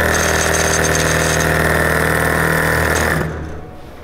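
Freshly repaired engine running steadily at a loud, even idle with a mechanical clatter, then its sound drops off sharply near the end as it winds down.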